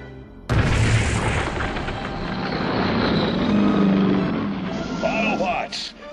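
A loud cartoon explosion booms as buildings are bombed, a sudden blast that rumbles on for several seconds before fading, with a voice speaking over the tail.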